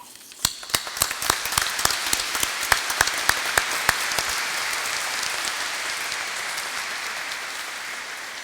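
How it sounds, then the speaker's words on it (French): A congregation at a jubilee Mass celebrating a priest's 25 years of priesthood in Peruwelz breaks into applause, sharp separate claps at first that thicken into a steady, softer wash of clapping. "on peut vraiment applaudir celles et ceux qui ont tout mis en œuvre pour que cette célébration puisse avoir lieu aujourd'hui"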